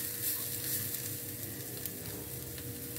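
Beetroot bhaji with garlic sizzling in a pan as it is stirred, a steady low frying crackle with soft scraping strokes throughout, fairly quiet and close, without any talking.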